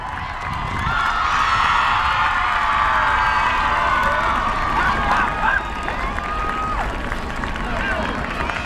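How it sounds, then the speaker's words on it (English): A crowd at an evening school band concert cheers, whoops and claps loudly for the young musicians, with high children's shouts riding over a dense, sustained roar. "One more round of applause for all these fine young musicians."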